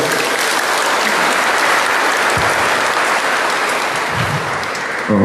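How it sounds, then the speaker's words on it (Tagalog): Sustained applause from a church congregation at Mass, steady and loud throughout, with a dense wash of many hands clapping together. "Masayang palakpak para sa Panginoon."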